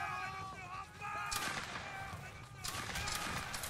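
Musket fire crackles in a Napoleonic Waterloo video game battle between line infantry, distant sharp volley bursts layered over a dense, noisy battlefield din with voices faintly mixed in.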